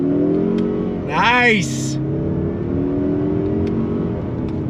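Engine note of a 2022 Mazda 3 Turbo hatchback heard from inside the cabin under hard acceleration with traction control off, a steady drone with a rising rev sweep in the middle; a voice briefly speaks over it.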